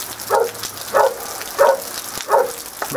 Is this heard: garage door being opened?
no